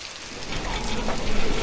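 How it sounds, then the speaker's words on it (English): Rain falls in a steady, loud hiss of dense drops on a surface, continuous and close over the short stretch, swelling slightly toward the end. "Oh, it's raining."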